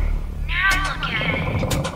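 A cat meows in a Poppy Playtime Chapter 3 game trailer. It is one clear, drawn-out mew, followed by sharp clicks and a shorter second cry, heard over low background rumble.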